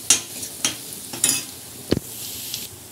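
Onions frying in a pan while a ladle stirs them, a soft sizzle under a few distinct scraping and clinking strokes spaced about half a second apart, close up, no talk.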